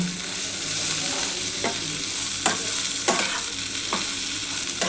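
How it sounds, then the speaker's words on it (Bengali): Spiny gourd with poppy seeds fries in a pan under a constant sizzle, while a spatula stirs and scrapes it in several distinct strokes, close up and without talk. "পোস্তটা দিয়ে খুব ভালোভাবে ভেজে নিয়েছি"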